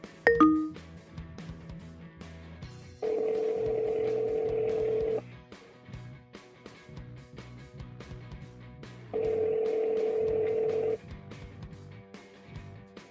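An in-car hands-free phone call placed by voice command rings out as two sustained ringback tones of about two seconds each, spaced roughly six seconds apart, with faint electronic tones between them.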